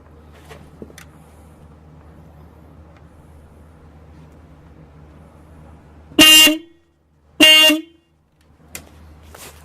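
Two loud, close car horn honks, each about half a second, separated by a brief pause and followed by a faint third blip, over quiet background hum.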